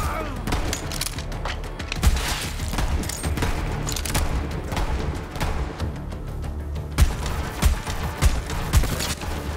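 In the video game Borderlands 3, a slow-firing projectile gun lets off repeated loud booming shots and impacts amid dense, chaotic combat noise with mechanical clatter.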